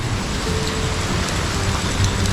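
Heavy rain pours down steadily, a dense, continuous hiss of drops close by with no pauses and no voices.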